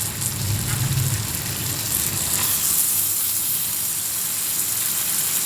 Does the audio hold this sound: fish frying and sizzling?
yes